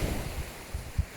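Sea waves wash onto a beach in Sardinia with a soft, continuous roar. Low thumps of surf come through, mixed with gusts of wind buffeting the microphone.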